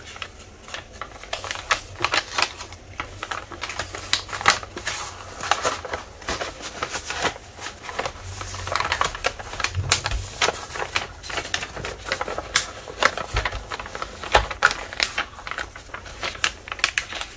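Scissors snip and crackle through paper while trimming a piece for a peacock-themed scrapbooking Advent calendar, with close, irregular cuts and rustles that continue steadily with no talk.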